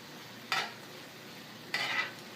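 Mushrooms and carrots in a hot skillet, a faint low sizzle with two brief scraping stirs about a second apart, close but quiet.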